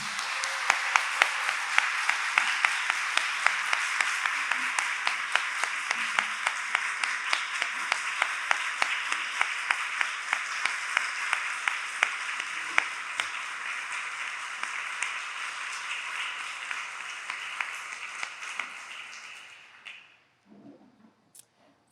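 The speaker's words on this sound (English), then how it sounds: "And what I would like to do is start a little round of applause for Bhavna and the United Way team." An audience at a women's panel event gives a long round of applause, many hands clapping steadily with sharp individual claps standing out, fading near the end into a few scattered claps.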